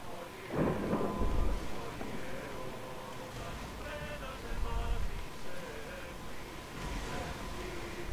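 A thunderstorm at sea in the Assassin's Creed Odyssey video game, with low thunder rumbles rolling in a few times over a steady wash of rain and wind, while a voice talks quietly underneath.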